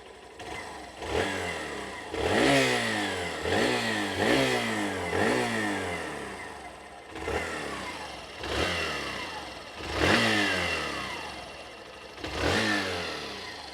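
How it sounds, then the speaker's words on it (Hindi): A Hero Glamour 125 Xtec motorcycle engine revs repeatedly from idle, rising and falling in a series of blips close by, with a mechanical exhaust note and no talking. "लेकिन उससे पहले जरूरी है इसका एग्जॉस्ट नोट सुनना।"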